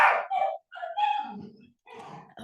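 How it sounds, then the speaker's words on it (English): Several household dogs bark and yip close by in short, loud bursts separated by brief silences. "My dogs have decided to take this moment to join in the conversation"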